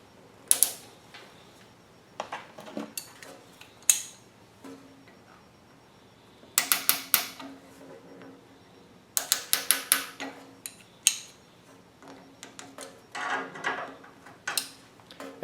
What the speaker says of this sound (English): So we're going to put a 1/4 inch fuel hose clamp, which is the larger of the two,